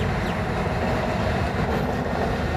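A modern Indian electric freight locomotive, similar to a WAG-12, passes with a steady, loud low rumble and rolling rail noise that holds evenly throughout, with no voices.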